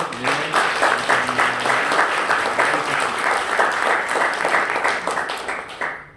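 Sustained applause from a congregation at a church retirement ceremony honoring a pastor, a dense, steady clapping that carries on for several seconds before trailing off.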